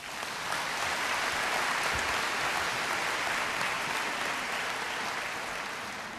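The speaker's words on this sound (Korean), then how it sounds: "우리 박수로 맞이하겠습니다." A large congregation at a 1996 Korean world missions conference applauds to welcome a missionary to the stage, a dense, steady roar of clapping that holds at one level throughout and fades slightly at the end.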